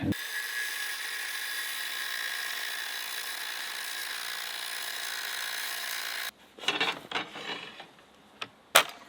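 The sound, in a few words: angle grinder grinding a metal part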